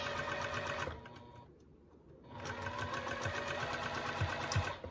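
A sewing machine runs in a rapid, steady mechanical rattle stitching fold-over elastic onto mesh, pauses briefly, then starts stitching again at the same quick pace, close and fairly quiet.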